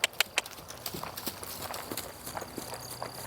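A horse trotting during a riding or training session, its hooves striking in a steady clip-clop rhythm, close and fairly loud, with no talking over it.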